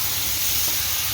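Katla fish frying in a hot pan gives off a steady, loud, close hissing sizzle with no pauses and no voices.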